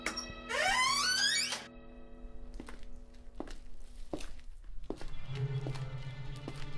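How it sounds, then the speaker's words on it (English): A door creaks open in a restroom, then slow, heavy footsteps thud one by one at an even pace, fairly close. "then footsteps."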